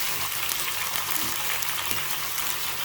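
Chicken frying in oil in a hot wok, a steady loud close sizzle with crackling spatter that holds unbroken from start to end.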